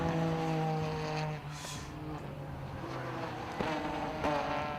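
A racing car engine at Snetterton circuit during a 750 Motor Club race, its steady droning note holding at a distance, then shifting as the car passes, with no voices over it.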